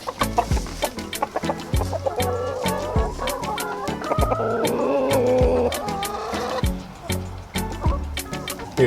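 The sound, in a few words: chickens clucking in snow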